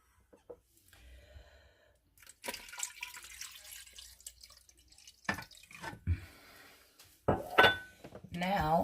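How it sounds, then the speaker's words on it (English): Water splashes and trickles into a pot in short bursts, with dripping and faint kitchen clatter between quiet pauses. "I am just going to add about 2 cups of water."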